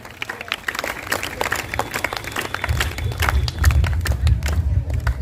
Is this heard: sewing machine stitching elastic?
no